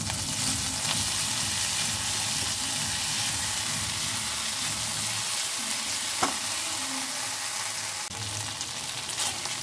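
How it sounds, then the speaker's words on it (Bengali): Spice paste sautés in a pan for a yogurt potato curry, a loud steady sizzle and hiss with occasional stirring scrapes and a brief clink. "এটা কষানো হয়ে গেছে মশলাটা"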